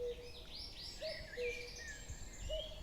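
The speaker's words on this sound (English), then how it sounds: "The song of this male differs slightly from others." A male bird sings in a forest, its song carrying borrowed phrases from other species, heard as quick high chirps and whistled notes alongside brief lower tones, moderately clear against faint insect-like background buzz.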